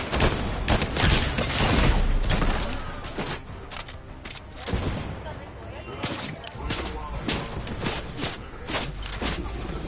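Rapid video game gunfire crackles almost continuously in dense overlapping bursts, loud and close, with voices talking over the shooting.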